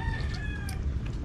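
Chickens clucking, with a drawn-out, crow-like call rising above a steady low rumble of farmyard background noise.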